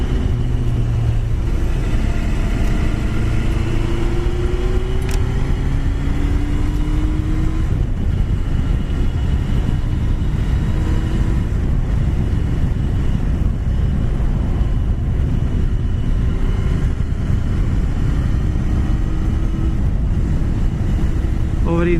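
A Yamaha Fazer motorcycle engine drones loudly and continuously while riding, with heavy wind rumble and engine tones rising and falling through gear changes.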